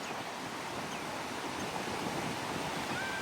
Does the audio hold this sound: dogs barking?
no